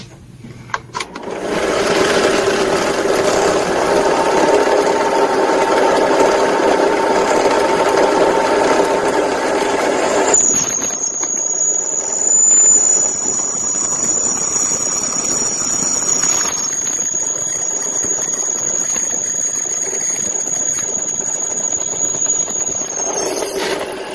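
Power drill boring a 6.3 mm hole for a coil thread insert, a steady loud motor whir that shifts about midway into a thin high-pitched squeal, held for many seconds.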